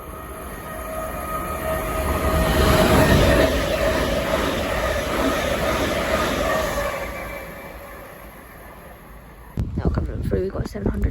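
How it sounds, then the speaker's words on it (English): A Class 387 electric passenger train on the Ely to London King's Cross service rushes through Welwyn North station. A loud, building roar and rumble with a whining tone peaks midway, then fades before a sharp switch to nearby talking at the end. "Now going through the service from Ely to London King's Cross"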